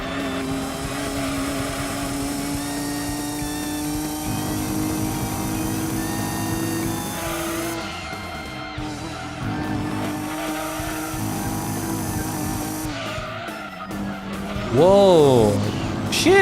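A race car in Gran Turismo 2 roars through its gears, engine pitch climbing and dropping in steady sweeps, with a brief tire squeal near the end; loud and continuous, with game music and effects underneath.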